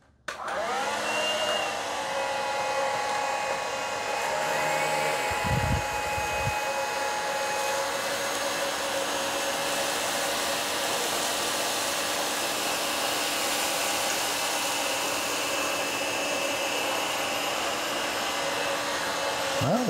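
Hoover ONEPWR Evolve Pet Elite and Shark Navigator Freestyle uprights whir up to speed and drone steadily while sucking up kitty litter, hair and confetti, with a brief rattling clatter of debris partway through.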